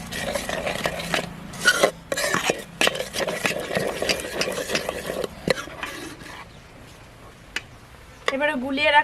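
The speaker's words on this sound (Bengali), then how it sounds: "এই পাউডার দুধটা দিয়ে দেবো।" Powdered milk stirred into milk in a metal pot while making patishapta pitha, with irregular scraping and clinking from a spoon against the pot, close and moderately loud, followed briefly by a voice at the end.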